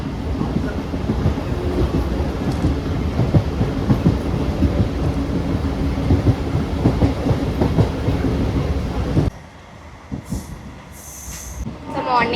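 A passenger train on a morning journey to Palakollu rumbles along the rails, heard from inside with steady wheel clatter and rattling. The noise drops sharply near the end to a quieter hum.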